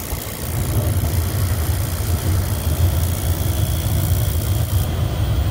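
A furnace burner catches and keeps firing after its tripped rollout switch is reset, giving a steady, close, low roaring rumble that holds evenly throughout with no talking.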